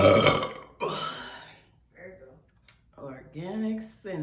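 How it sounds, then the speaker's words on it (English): Burping after drinking a cane-sugar cinnamon kombucha, with one loud drawn-out burp up close followed by quieter voiced sounds and a shorter burp. "Kombucha do make you burp though."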